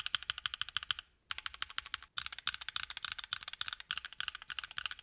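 Steady, fast typing on a stock Keychron Q3 keyboard with cherry-profile keycaps and no tape: crisp, even key clacks in a dense rhythm, with two brief pauses, fairly quiet and close.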